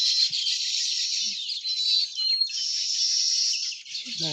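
Sparrows chirp steadily in a rural farm setting, a dense, continuous twittering chorus that runs through the whole stretch at moderate loudness, with a brief low murmur near the end.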